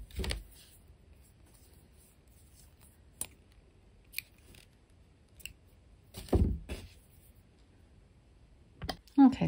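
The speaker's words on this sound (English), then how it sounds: "I'm just going to tie off, cut the hexagon." Scissors snip thread while tying off a hand-stitched quilting hexagon, giving a few short, crisp clicks spaced apart against quiet handling noise, close and fairly faint.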